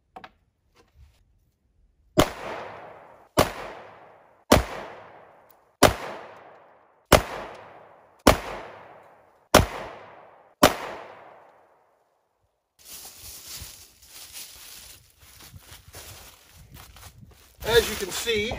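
Eight loud, sharp pistol shots from a Beretta APX Full Size fired into a foam book, evenly spaced about a second apart and close, followed by rustling handling noise.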